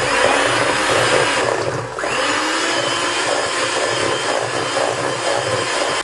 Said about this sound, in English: And just beat all those soft ingredients together.